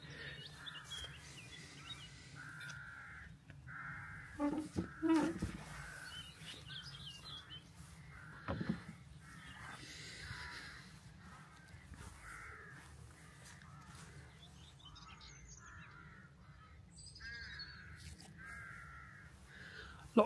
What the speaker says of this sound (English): Lots of rooks and a few carrion crows calling.